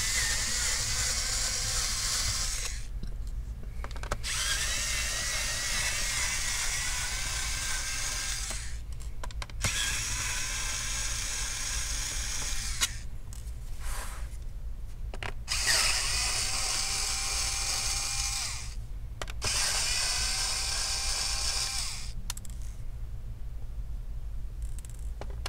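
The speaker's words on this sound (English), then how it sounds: "Sorry, this is an electric screwdriver. And the screws are Phillips." Electric screwdriver backing Phillips screws out of an HP Pavilion 16 laptop case, a steady close whirring in repeated bursts of a few seconds each, separated by short pauses, over a constant low hum.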